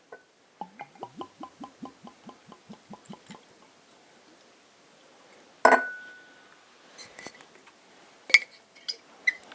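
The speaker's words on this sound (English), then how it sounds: "Let me pour it into the glass first." A quick run of rhythmic glugs as Compass Box The Peat Monster blended Scotch whisky pours from a bottle into a glass, followed by a sharp glass clink and a few lighter taps nearby.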